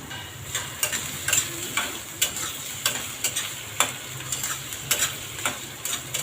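Vegetables salted and frying in a pan while being stirred, a soft continuous sizzle broken by regular sharp scrapes and taps of the spoon roughly every half second, close and clear with no talking.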